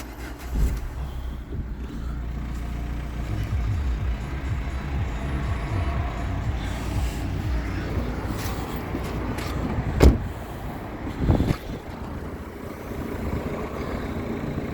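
A 2012 Renault Clio with a 1.5 dCi diesel engine idles close by with a steady low rumble after starting, and a couple of brief clunks stand out over the running engine.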